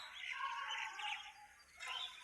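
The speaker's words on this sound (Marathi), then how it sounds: "चला, हे पहा चिमणे आले।" Sparrows chirping in a quick, busy run of high calls, several birds close together, with a short pause before another burst; no talking over it.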